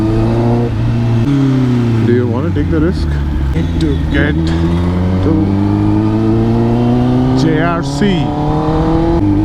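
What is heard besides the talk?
2022 Kawasaki ZX10R superbike exhaust revving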